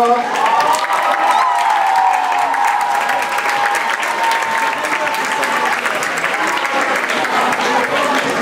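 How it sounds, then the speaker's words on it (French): Sustained applause from an audience at a closing ceremony for a school maths conference, steady and full for the whole stretch, with a few cheers and a faint voice or two mixed in. "On les applaudit bien fort."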